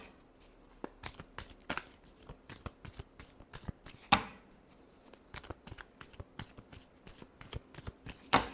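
Tarot cards being shuffled by hand, a steady series of close, crisp riffling snaps and slaps with a sharper flick midway and at the end, quiet and without talk.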